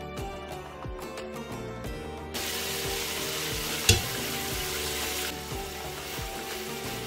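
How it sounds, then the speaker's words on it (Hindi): Whole spices and ginger-garlic paste fry in a pan with meat for nihari, a continuous close sizzle that swells louder partway through, with a steady low rhythmic thumping underneath and one sharp clink. "2 से 3 मिनट पकाने के बाद इसमें ऐड कर देंगे अपने होल स्पाइसेस और जिंजर गार्लिक का पेस्ट।"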